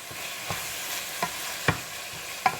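Partly frozen meat fries quietly in a pan while being stirred and turned, a soft steady sizzle broken by a few distinct scraping clacks of a utensil about every half to one second, fairly faint and without talk.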